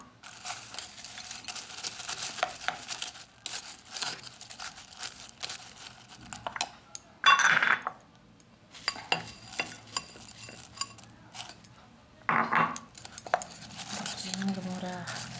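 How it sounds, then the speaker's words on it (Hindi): Puffed rice (murmura) is stirred and tossed with seasonings for street-style jhal muri: close, irregular rustling and light scraping with a few louder clattering bursts. "फिर लास्ट में ये मुरमुरा थोड़ा सा मिक्स कर लूँ पहले इसको।"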